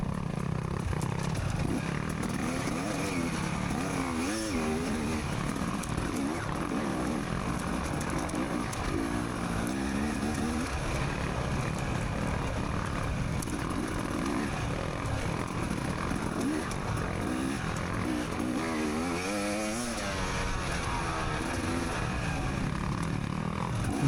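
Off-road motorcycle engines in a harescramble race, a continuous droning roar with shifting revs, the rider's own bike close and loud with another bike ahead in the distance, no talking.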